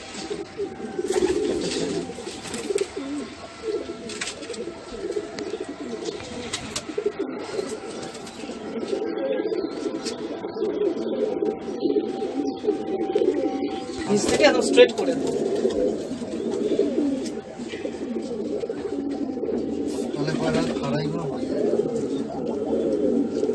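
Madrasi pigeons cooing in a loft, a continuous low murmur of overlapping coos close by, with people talking over it throughout.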